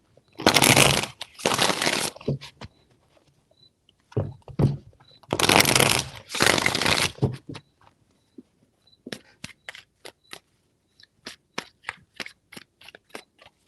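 Tarot cards are shuffled close by in two dense bursts of riffling, followed by a run of sharp, separate card taps and flicks, with no talking.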